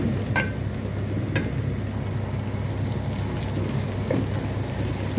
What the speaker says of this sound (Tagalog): lagay na natin yung sibuyas, bawang. Magigisa na tayo.